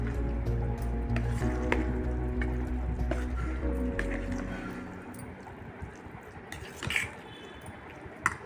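A salad with finely chopped coriander is tossed and mixed by hand, giving soft, wet squelching and rustling up close, over a steady low hum.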